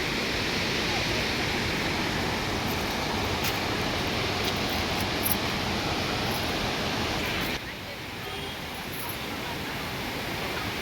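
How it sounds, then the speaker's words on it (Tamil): Water released from Sathanur dam pours in a steady, loud broadband rush like a waterfall, continuous for about eleven seconds with a slight drop in level near the end. "தண்ணி நல்லா வந்துட்டுருக்கு."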